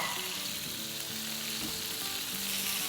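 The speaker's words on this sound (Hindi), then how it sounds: "तो इसमें अब हम डालेंगे मशरूम्स" Mushrooms hit a hot pan and fry with a loud, continuous close sizzle and hiss, with no talking over it.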